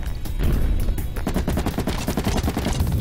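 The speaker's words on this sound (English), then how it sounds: "Just need to keep shooting the guy." Rapid gunfire rattles in the video game Caveblazers, a dense, loud burst of repeated shots over constant game noise.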